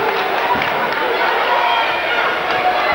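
Basketball crowd cheering loudly and continuously inside a high school gym after an alley-oop dunk during a North State Tournament game, a dense steady roar with scattered shouts and talk mixed in.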